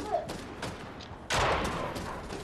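Bursts of gunfire in Fortnite, a few scattered shots at moderate distance followed by a louder, sustained volley partway through, over a busy game background.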